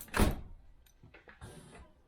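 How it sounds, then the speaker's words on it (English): A solid Range Rover P38 car door slams shut up close, followed by a few softer clunks and a brief mechanical whir. "And shut the door"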